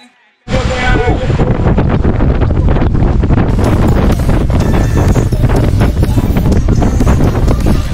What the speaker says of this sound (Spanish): Una tormenta. El viento.